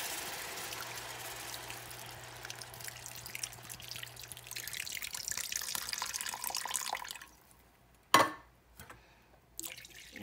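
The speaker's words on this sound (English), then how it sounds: "now we're going to add our 2 cans of broth" Two cans of broth pour into a cooking pot as a steady, close liquid gush that runs for several seconds, then tapers off into a few separate splashes and drips.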